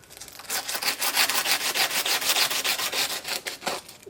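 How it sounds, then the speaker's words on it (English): A metal part from a hydraulic floor jack is being sanded by hand with 80 grit emery paper, making close, rhythmic rasping strokes in quick, even back-and-forth succession. "we're going to clean that up with some emery paper, even if it takes me all day"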